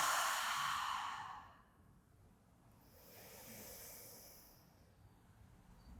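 A slow, deep breath out hisses audibly close up, then a quieter breath in follows after a pause during a calm grounding exercise, soft and unhurried with no talking.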